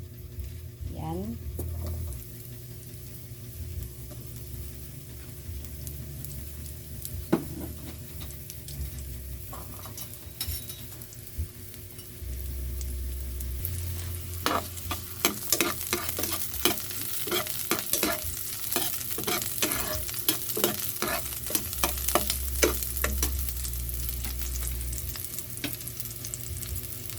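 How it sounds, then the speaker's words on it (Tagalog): Onions fry in a hot pan for chicken adobo, a steady crackling sizzle with clattering stirring and utensil taps that grow busier partway through, a low hum underneath. "Pag mainit na ay lagyan na natin itong sibuyas."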